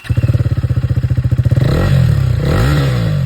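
KTM 390 Duke motorcycle engine idling with a loud, rapid even thump, then revved hard into a rising, raspy roar that dips and climbs again, close up with no talk.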